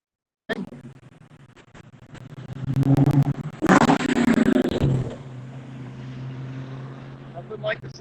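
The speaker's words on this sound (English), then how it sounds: "Nothing like the sound of a 5-liter Mustang." A 5-liter Ford Mustang at a rolling evening car show, its engine rumbling and swelling through loud revving bursts in the middle before settling to a steady idle, close by with background crowd noise.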